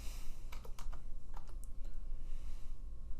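Rapid clicking keystrokes on a computer keyboard as a number is typed into design software, a quick close burst of taps followed by a few separate presses.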